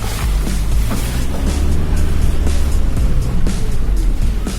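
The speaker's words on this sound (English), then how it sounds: "This Amarok can wade, so I decided to park it in the lake" A Volkswagen Amarok pickup wades into a lake, its engine running steadily close by while water churns and splashes around the wheels in a continuous, loud, rough wash.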